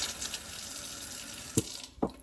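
Water runs from a tap into a plant reservoir with a steady hiss, broken by two brief splashy knocks near the end; no voices.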